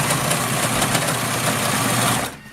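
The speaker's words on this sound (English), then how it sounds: "Remember, always take out your pins when using a serger." Serger stitching fabric, a fast continuous rattling buzz heard close up that runs steadily for about two seconds, then stops abruptly into quiet.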